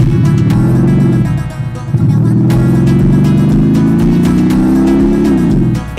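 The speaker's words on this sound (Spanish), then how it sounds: "Ni uno, ni dos, sino tres sonido escape para este BMW Serie 3." Speakers fitted to a BMW 3 Series produce a simulated exhaust note, a loud, close, deep droning growl that rises and falls in pitch like revving for about six seconds.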